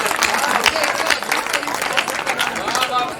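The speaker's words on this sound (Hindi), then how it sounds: "आप लोगों ने तालियां बजा दी" Lively audience clapping at a Hindi poetry gathering, quick overlapping claps close and loud throughout, with murmuring voices mixed in.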